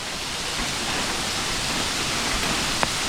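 A forest waterfall pours in rainy weather as a dense, even broadband rush, steady and unbroken throughout, with one brief faint click near the end.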